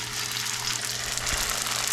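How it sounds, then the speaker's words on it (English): A wonton taco shell, folded over cannoli forms, deep fries in hot oil, giving a steady, loud crackling sizzle with a low continuous hum underneath. "And then drop it in the oil"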